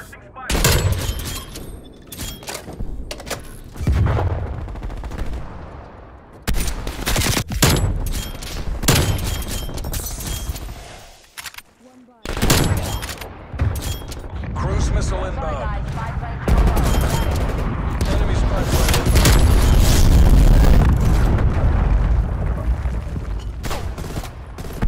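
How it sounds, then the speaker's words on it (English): Gunfire from an enemy sniper in the Call of Duty Cold War video game, with repeated loud shots and bursts amid explosions and battle noise, and voices talking in between. "Enemy sniper shooting."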